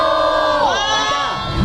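Loud crowd of citizens shouting together in unison at an outdoor candlelight rally for a June 15 North-South joint event, a sustained massed roar of voices rising and falling across the whole stretch.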